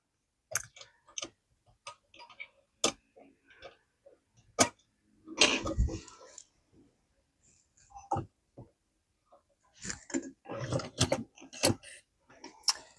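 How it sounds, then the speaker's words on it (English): A Burdick treadle sewing machine worked by hand gives off scattered mechanical clicks, ticks and creaks in short bursts, with a longer rattling run of stitching midway and more clattering near the end. "Now this is a treadle machine. I'm operating it by hand"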